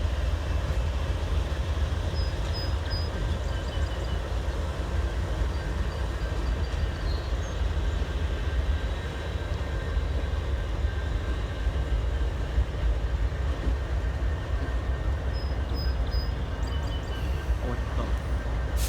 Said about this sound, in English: I don't know what train this is